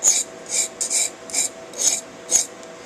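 A knife edge is ground on a Norton Econo sharpening stone in seven steady, evenly spaced rasping strokes, each a close, dry scrape with short gaps between.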